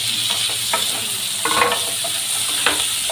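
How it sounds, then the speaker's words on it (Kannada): Chopped tomatoes frying in a pan with a steady sizzle, broken by a few scraping stirs of a spoon against the pan, close and continuous with no talking. "ಇದನ್ನು ಚೆನ್ನಾಗಿ ಫ್ರೈ ಮಾಡ್ಕೊಳ್ಳಿ."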